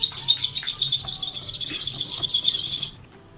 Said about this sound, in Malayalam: ഇതെല്ലാം കൂടി നന്നായിട്ട് നമുക്ക് ആദ്യം ഒന്ന് ഈ ഒരു പഞ്ചസാര പാലിൽ കിടന്ന് അലിയുന്ന വരെ ഒന്ന് മിക്സ് ചെയ്ത് കൊടുക്കാം